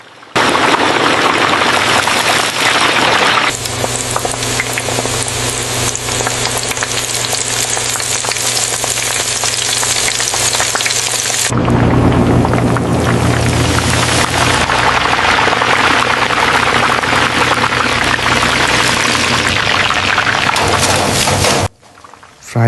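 Chicken wings deep frying in a large batch of hot oil, a loud, dense, rain-like bubbling roar that holds steady, shifts in tone partway through and cuts off at the end.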